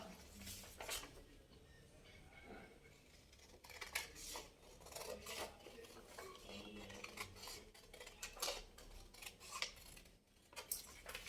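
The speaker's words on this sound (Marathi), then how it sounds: "आता आपण कटिंग पाहू" Scissors snipping through the fabric of a marked petal sleeve, giving repeated short crisp cuts and rustles close up, with some handling noise between them and no talking.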